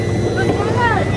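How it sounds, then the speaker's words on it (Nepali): A boat's engine running steadily just after starting, on a trip toward Sauraha: a loud, continuous motor drone with no breaks, with people talking over it. "इन्जिन स्टार्ट भयो"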